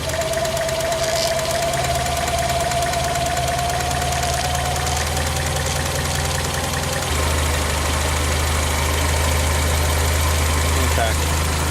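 A 1990 Mazda Miata engine idles steadily during a tune-up as the idle screw is adjusted, a continuous low mechanical hum with a slight shift in pitch partway through, close and loud throughout.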